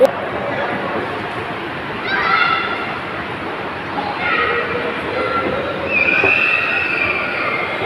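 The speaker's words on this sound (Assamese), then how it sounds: "আমি এতিয়া ট্ৰেইনত উঠিছো" A train rolls along the rails on a ride toward Guwahati, giving a continuous close rumble with shrill wheel squeals rising and fading, and faint voices underneath.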